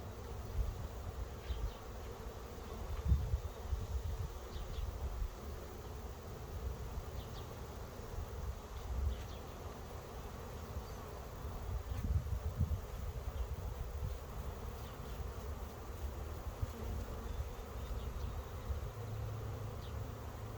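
Honey bees gather at a swarm trap, their dense, continuous buzzing close by and steady, with individual bees droning past now and then and no voices.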